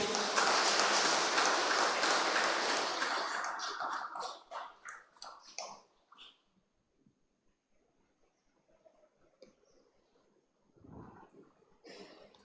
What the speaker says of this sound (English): I think they need a green applause.